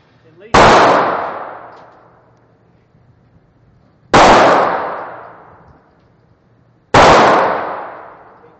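Saiga 12 gauge shotgun firing outdoors, three loud, heavy booms spaced a few seconds apart, each followed by a long rolling echo that fades away before the next shot.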